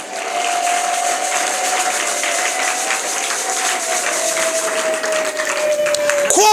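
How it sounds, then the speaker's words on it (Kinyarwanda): A church congregation breaks into sustained, dense applause that fills the whole stretch at an even loudness, with a held tone running underneath. "Wayikomeye amashyi nimba uri hano."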